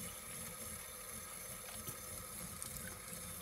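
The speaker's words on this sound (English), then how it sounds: "Fill the container up with water." Water pours steadily into a container for Gelsoft ammo preparation, a continuous hissing splash with no pauses, close and fairly quiet, with no talking.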